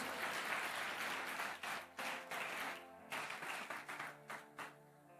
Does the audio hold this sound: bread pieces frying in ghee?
no